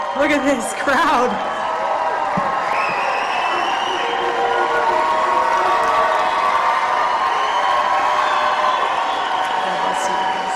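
A big crowd at a Turning Point USA rally in Phoenix cheers, whoops and applauds loudly and continuously, with scattered shouts rising above the roar and a voice speaking briefly over the start.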